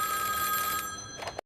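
Telephone ringing with a steady electronic tone for about a second, then a few short bursts and a click as it is cut off.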